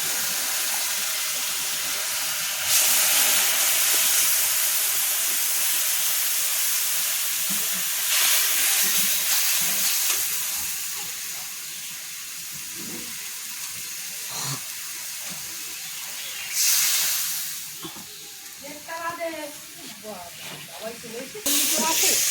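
Mustard seeds hitting hot oil in a home kitchen, a steady loud hiss and sizzle with surges as ingredients go in, while people talk nearby.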